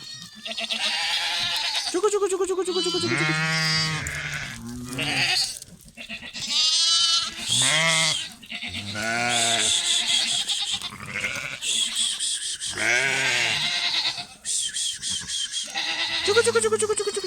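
Several goats bleat repeatedly, loud and close, their wavering cries overlapping one after another with a few short pauses.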